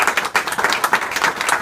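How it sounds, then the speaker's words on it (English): A short burst of applause at a training room naming ceremony, a small group clapping briskly and unevenly nearby for under two seconds, with no talking. "so I think we should all give her a round of applause"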